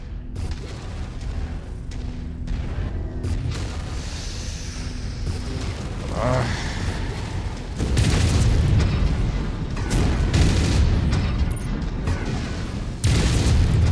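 Missile explosions in a mech combat video game, a sustained barrage of heavy booms and blasts rolling over a continuous low rumble, growing louder in the second half with dense overlapping detonations.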